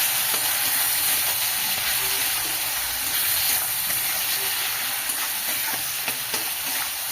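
Onions, ginger-garlic paste, salt and chopped tomato sautéing in a pan for a spicy lentil-fritter curry, giving a steady close hiss and sizzle throughout, with faint scattered stirring clicks and no talking.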